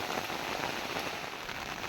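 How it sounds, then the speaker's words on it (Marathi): Steady, dense rain pattering on surfaces all around in hilly countryside while cattle graze, a continuous hiss of many drops with no pauses. "आता सो पाऊस चालू हा"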